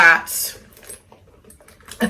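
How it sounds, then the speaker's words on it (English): Keys jangling as they are dropped into the front section of a small Marc Jacobs Snapshot bag, a burst of bright metallic clinks at the start, then fainter rustles and a last clink at the end. "my keys in the front section there."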